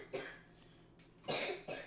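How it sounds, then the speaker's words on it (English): Two coughs, open and breathy: one short burst early, then a louder, longer cough near the end with a brief follow-up, close to the mic. "Open mouth cough"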